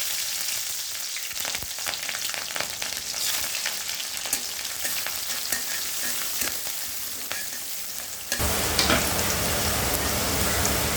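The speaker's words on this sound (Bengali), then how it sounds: "এখন আমি পেঁয়াজ আর কাঁচামরিচ দিয়ে দেব।" Onion and green chili sizzling in hot oil in a pan, a continuous crackling fry with stirring clatter, jumping louder near the end as the sizzle intensifies.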